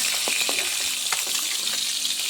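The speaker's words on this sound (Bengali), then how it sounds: "মাছগুলো এখানে আমার লাল করে ভাজা হয়ে গেছে।" Fish frying in oil in a kadai, a constant bright sizzle with scattered pops and small utensil taps, close and fairly loud.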